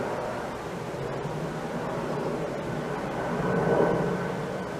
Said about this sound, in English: That's why you hear the airplanes.